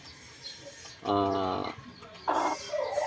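A broodcock rooster of a fighting line gives a loud drawn-out cluck, then a shorter, harsher one, close by with someone talking nearby.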